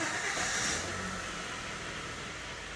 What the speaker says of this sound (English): now we're going to go ahead and start the car